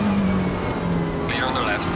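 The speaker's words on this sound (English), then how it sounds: "Car on the left." Race car running alongside in Assetto Corsa Competizione at the Nurburgring, a loud continuous engine roar with a shifting pitch and a rising whine near the end, under talk.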